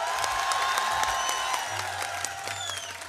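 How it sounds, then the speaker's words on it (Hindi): Audience applause and cheers for a guest at the Pakistan Literature Festival, a dense, steady roar of clapping with a few whoops rising over it, close and full for a few seconds. "इनके लिए भरपूर तालियां होनी चाहिए"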